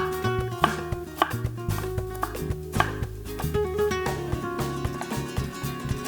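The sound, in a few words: chopping ginger with a knife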